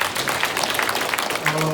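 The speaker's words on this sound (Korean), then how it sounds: "박수 한번 부탁드리겠습니다" A forum audience at a Jeju talk concert gives a short round of applause, a brisk wash of many hands clapping at moderate volume that carries on briefly before tailing off.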